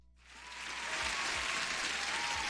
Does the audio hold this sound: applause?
yes